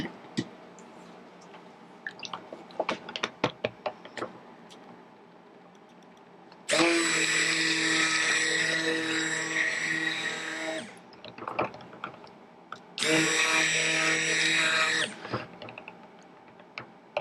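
A stick blender emulsifies cold process soap batter of oils mixed with lye water, running in two loud, steady whirring bursts of about four and two seconds, with quieter clicks and handling noises before and between.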